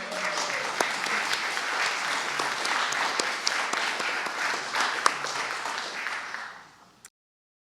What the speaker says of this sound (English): Please applaud Jen.